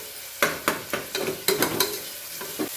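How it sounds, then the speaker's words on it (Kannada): Onions and garlic frying in a pan for misal pav, sizzling under a series of distinct stirring scrapes and spatula knocks, close and moderately loud, with no speech. "ಇವಾಗ ಚೆನ್ನಾಗಿ ಫ್ರೈ ಮಾಡ್ಕೊಳ್ಳಿ"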